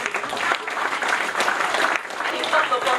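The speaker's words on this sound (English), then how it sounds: "Please give him a round of applause." A crowd applauds steadily and continuously at a Bahá'í anniversary celebration in Malacca, a dense wash of clapping that stays at an even level from start to finish.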